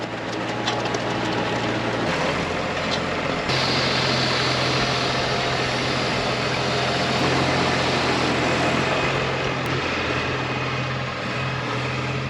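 A tractor engine runs steadily on a field in a loud, continuous drone. The rumble is close, with a constant low hum and no pauses.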